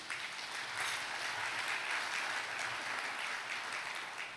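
A church congregation applauds during a Malayalam sermon about grieving the dead, a dense, steady wash of many hands clapping at even volume throughout, with no voices over it.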